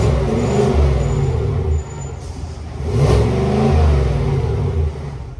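A 2022 GMC Yukon AT4 with a 6.2 liter V8 and quad exhaust tips fires up and revs, a loud, close engine roar that dips briefly and then swells again, with no talk over it.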